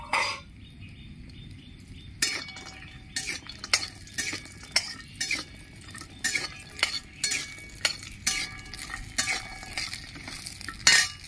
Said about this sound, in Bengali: আমি একটু বড়িটা ভেজে নিচ্ছি